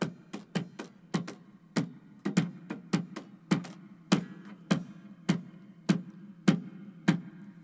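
Two hands tap a four-against-five polyrhythm, producing dry, close, clicking strikes that overlap in two interlocking pulses, played alone with no talk.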